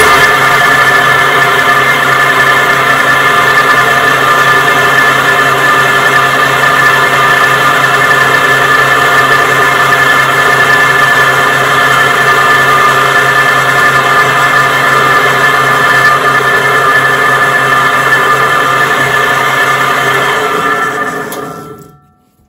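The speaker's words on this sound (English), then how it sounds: "And now to drill the second one." A power drill whirs at a steady, loud pitch for about twenty seconds drilling a sling stud hole in a Magpul X-22 plastic stock, then winds down and stops at the end.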